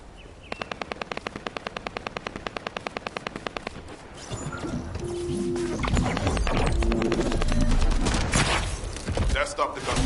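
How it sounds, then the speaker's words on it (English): Gunfire in the video game The First Descendant: a rapid, evenly spaced burst of machine-gun shots, then heavier overlapping shooting and blasts building into a loud, chaotic barrage. "That stopped the gunfire."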